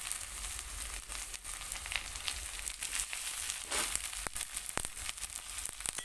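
Chopped tomato goes into a hot frying pan while an egg scramble with poppy seeds is being cooked. A steady, close sizzle of frying follows, with occasional scraping and clinking from the pan.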